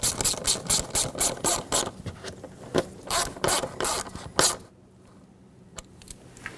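A screw on a hose clamp is tightened over the valve cover of a 2008-2020 Dodge Grand Caravan 3.6L, giving rapid ratcheting clicks in bursts that then stop, with a few stray taps afterward.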